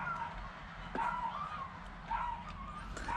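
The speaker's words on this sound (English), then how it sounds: "I hear sad dogs inside" Sad dogs whimpering from inside a building, heard as repeated high, wavering whines and yips at moderate distance, rising and falling in several short cries over a low background hum.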